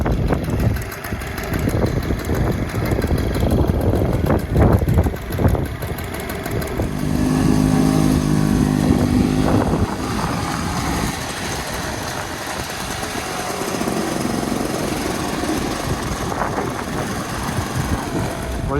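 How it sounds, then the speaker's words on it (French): A small moped-style motorbike rides along steadily, its engine droning loud and close with wind rush, shifting pitch as it accelerates and settles, continuous throughout with no talking. "j'ai la petite meule, on part en meule chercher tout ça"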